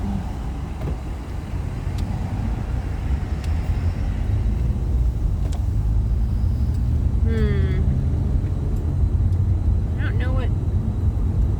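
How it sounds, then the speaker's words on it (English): A car passes on the road, a low rumbling approach that grows steadily louder and stays close, with a person speaking briefly over it. "There's always one more car that sneaks up."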